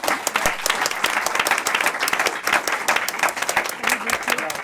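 Warm audience applause fills the room, a thick continuous patter of many hands clapping at steady loudness, with voices murmuring faintly beneath it.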